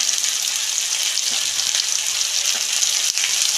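Turmeric, coriander, cumin and chilli powder fry with cabbage in a Bengali fish-head cabbage dish, giving a steady, close hiss and sizzle with faint stirring scrapes and no voices.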